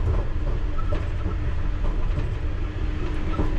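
A London Underground Piccadilly Line train pulls out of the Arnos Grove sidings, heard from on board as a loud, close rumble with rhythmic clicks of wheels over rail joints.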